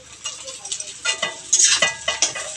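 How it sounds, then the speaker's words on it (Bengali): Beans and carrots lightly frying for vegetable fried rice, a close sizzle broken by repeated scraping and clinking stirs of a spatula in the pan, rhythmic strokes in quick succession, with no voices. "দিয়ে হালকা ভেজে নেবো সব সবজিগুলো"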